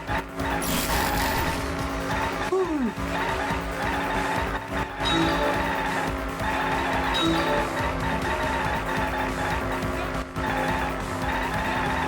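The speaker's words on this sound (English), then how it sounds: "Lovely cars." Race cars in the video game Danganronpa V3: Killing Harmony roar steadily throughout, engines droning loud and continuous, with a sharp tire squeal rising early on and faint skidding later.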